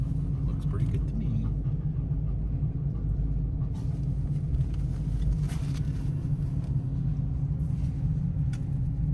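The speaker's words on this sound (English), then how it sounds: "So we're on the ferry right now. We're moving." Steady low engine rumble on board a moving ferry on the way to Hornby Island, continuous and close for the whole stretch, with faint talk and small knocks over it.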